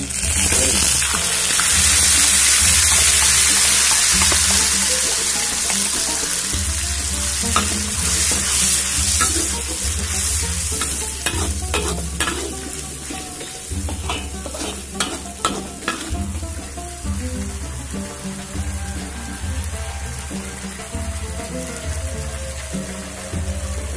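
Beef curry ingredients frying in a pan until crisp, a loud, dense sizzle with crackling pops and occasional stirring scrapes, heard up close and continuously with no voices.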